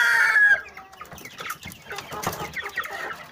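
A rooster's drawn-out call opens, followed by busy overlapping clucking and squawks from several chickens close by, including Zagorsk salmon roosters.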